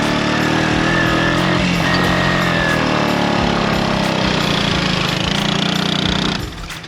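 Engine of a cheap three-wheeler straining and bogging in second gear, a loud continuous laboring drone with shifting tones that runs throughout and drops away near the end.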